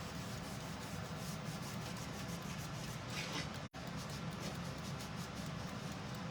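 A cloth rubs excess wax off a wooden sign in a continuous close scrubbing with a brief break midway, steady and alone.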